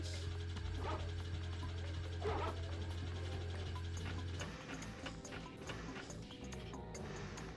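Dogs barking in Ratchet and Clank, with several sharp yips and barks rising over a steady game hum and low drone, fairly faint and mixed into the background.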